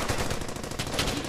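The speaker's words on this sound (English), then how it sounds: "These guys are getting shot at like really bad." Rapid machine-gun fire in the World War II shooter Brothers In Arms: Hell's Highway, a dense, continuous rattle of bursts filling the whole moment with no talk over it.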